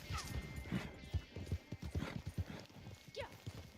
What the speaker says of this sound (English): Come on, Arabian, you're faster than all of them horses.